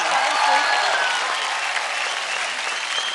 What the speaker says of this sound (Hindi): क्या बात है, जोरदार तालियां हो जाए।